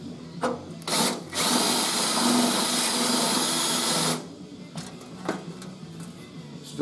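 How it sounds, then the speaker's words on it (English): A power drill with a dull bit bores out spot welds on a Triumph TR3 body, a harsh grinding whine lasting a few seconds between brief bursts and short pauses, heard up close. "Drill's getting dull again."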